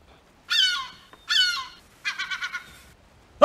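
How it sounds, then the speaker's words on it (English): Seagulls calling in the Valheim video game: two drawn-out squawking cries followed by a quick run of five short clipped calls, fairly close and clear, with no talk. "Oh, I barely missed that seagull."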